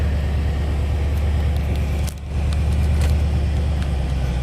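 2016 Dodge Challenger ScatPack engine running with a steady, loud low rumble close by, briefly dipping midway before settling back into an even idle.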